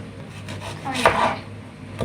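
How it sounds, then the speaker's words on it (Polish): A knife chopping an onion on a board during home cooking of a vinaigrette salad, a few soft taps and then a sharper, louder cluster of cuts near the middle, close by and heard alone. "Kroimy cebulę"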